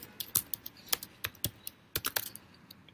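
Typing on a computer keyboard: close, crisp key clicks in irregular bursts, with short pauses between runs of keystrokes, in a quiet room.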